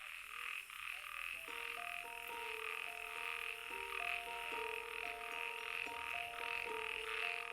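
Male toads gathered at a breeding site call loudly, their overlapping croaks and trills rising and falling in a continuous chorus, with several individuals audible close by.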